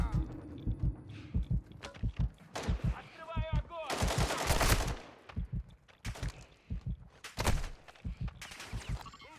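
Gunfire aimed at the player in a Call of Duty match: bursts of rapid shots and heavy impacts, loud and close, repeating in clusters with short gaps while a radio-style voice speaks in between.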